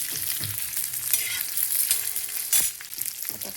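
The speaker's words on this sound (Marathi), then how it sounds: "मसाला भाजायला आता तेल टाकायचं." Masala spices frying and sizzling in plenty of oil in a pan while cooking bitter gourd, a steady close crackle with occasional stirring scrapes and no talk.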